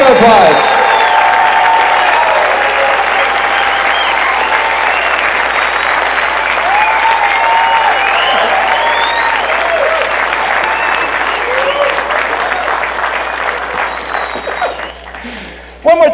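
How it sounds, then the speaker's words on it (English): Sustained loud crowd applause with cheering fills a celebration-of-life gathering in Garden Grove, California, holding steady for about fifteen seconds before tapering off near the end. "Everybody, please give a huge round of applause for Tom Wilson,"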